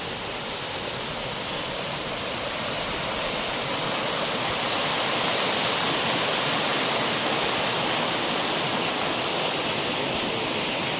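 Kumbhavurutty Falls pours in a dense, unbroken roar of falling water that swells slightly and holds loud and steady throughout, with no voices.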